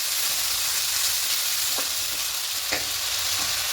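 Onion paste and tomato paste fry in a pan with a steady close sizzle, broken by a few brief stirring scrapes of the spoon.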